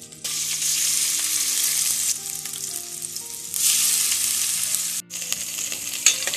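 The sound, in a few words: ginger garlic paste and chili paste frying in oil in a wok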